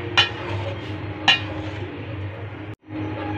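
Noodles being stirred in a cooking pot on high heat: two sharp metallic clinks of a utensil against the pot, about a second apart, over a steady low kitchen hum.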